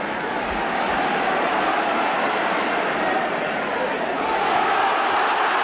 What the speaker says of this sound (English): The crowd roar for it.